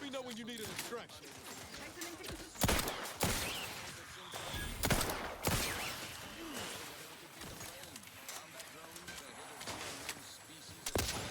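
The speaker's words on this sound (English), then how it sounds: "What is shooting those laser beams and why is it scaring me?" Laser beam weapons fire in the video game Outer Worlds 2, giving sharp, scattered zaps and blasts at irregular intervals over ongoing speech and background game sound.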